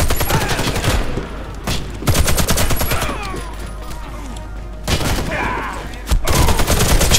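Gunfire from the online shooter Warface: rapid bursts of automatic fire come in several loud volleys separated by short pauses, close and dominant.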